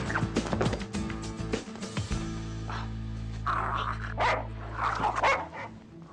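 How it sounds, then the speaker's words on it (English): A dog barks in a few quick, loud yaps followed by a long drawn whine and whimpering, with rustling and a little background activity underneath. "Oh, I have to catch that dog."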